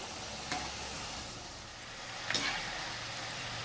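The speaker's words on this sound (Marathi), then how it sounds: "यांना टाकल्यावर मात्र हा असं हलवत राहायचं म्हणजे चौकडून सारख्या तळल्या जातात त्या" Jaggery kapanya frying in hot oil while being stirred, a steady soft sizzle with two brief scraping stir clicks.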